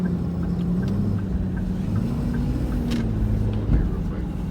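A six-four dump truck engine revs and holds at a steady elevated idle, a continuous low rumble with a faint rising whine, close by, with a brief bump near the end.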